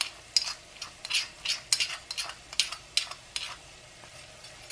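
Ground cumin and coriander stirred into masala frying in a pan for white black-eyed bean curry, heard as a run of irregular scraping, clinking stirs close by with a faint sizzle underneath, no talking.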